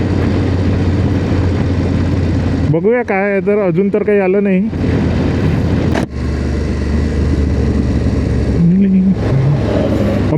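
A vehicle cruises at about 60-70 km/h through the Amboli ghat on the road toward Goa. A steady, broad road-and-engine drone runs throughout while someone talks over it.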